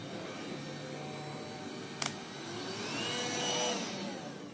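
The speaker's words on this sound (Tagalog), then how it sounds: "subok naman natin dito sa heater ng Wadfo, itong Inco na battery. So, ayan, umaandar naman yan." A Wadfow heater powered by an Ingco battery runs with a steady, fairly quiet fan whir and faint hiss, with a brief click partway through, and no other sounds.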